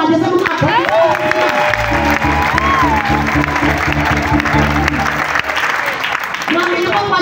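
Church congregation applauding, steady clapping running under a speaking voice and background music throughout, fairly loud and continuous.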